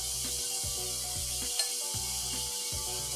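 Soy sauce hissing in a hot wok with stir-fried beef for Phad Krapow, a steady loud sizzle broken by a few spatula scrapes, with no talking.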